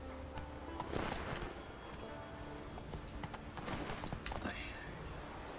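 Horse hooves clip-clop at a steady gait in The Witcher 3 game, quiet rhythmic thuds over ambient in-game sound, with a voice talking over the top.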